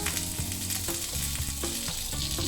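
A cinnamon oat banana protein pancake frying in butter in a hot pan, a close, steady crackling sizzle with brief scraping stirs and clicks of a utensil, no voices.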